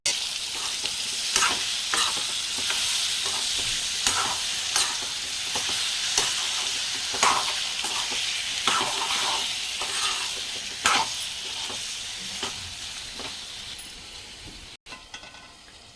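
Tomatoes with chili powder and salt frying in a pan, a constant sizzle broken by regular spoon strokes and scrapes against the pan, close and clear, fading slightly near the end.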